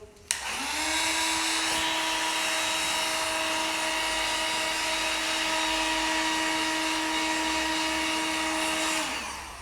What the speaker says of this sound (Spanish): Lo voy a secar un poquito.